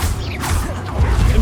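Accio and Levioso spells cast in the Hogwarts Legacy video game produce a dense magical whoosh with creaking, mechanical swirls, loud and continuous through the short burst.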